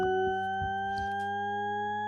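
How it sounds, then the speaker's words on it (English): Shepard tone, a pure ever-ascending tone built from several steady stacked sine tones, loud and continuous, with faint low thumps beneath. "An ever ascending tone that never stops ascending."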